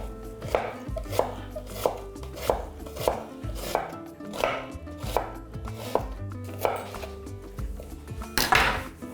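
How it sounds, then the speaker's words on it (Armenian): A red onion sliced into thin half rings with a knife on a board, about a dozen crisp, evenly spaced chopping knocks close by, with the last cut the loudest. "Կվերցնեմ 1 գլուխ կարմիր սոխ, կկտրատեմ այն կիսա օղակների,"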